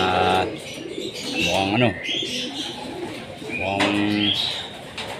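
Racing pigeons back in the loft after a hot-afternoon derby coo and call close by, while someone talks over them in a steady stream.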